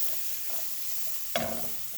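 Jamaican curry sweats in a hot pan with a soft, steady sizzle, then a sharper hiss flares up briefly partway through before settling back to a low crackle.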